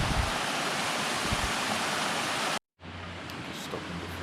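Rushing water roars as a dense, steady wash of noise, cut by a brief gap before a quieter, continuous flow resumes.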